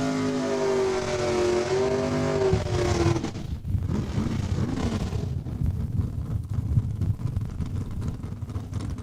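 At Saskatchewan International Raceway, drag racing cars launch and roar down the strip, a loud rising engine note that fades into distant rumble with wind buffeting the microphone.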